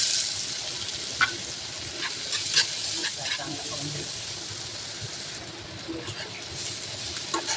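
Onion hitting hot oil already seasoned with curry leaves and a crushed paste of chili, garlic and ginger, a steady close sizzle with scattered stirring scrapes and clinks throughout.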